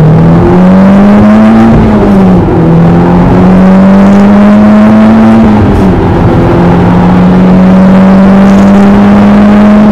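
An Audi S3 with major problems, engine at temperature, drives along a road with a loud, close engine drone whose pitch climbs, drops at gear changes, and climbs again.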